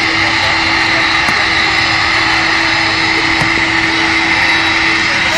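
Continuous loud roar of airplane jet engines at Manchester Airport, a steady close drone with a constant tonal whine and no talk.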